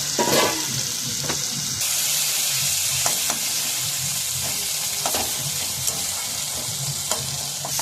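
Taro stolons cook in a pan with a continuous hiss and sizzle, broken by a few sharper clatters of stirring, heard up close with no talking.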